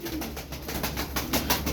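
A tumbler pigeon coos in a series of soft, throaty pulses close by, repeating roughly every quarter second against a low background hum.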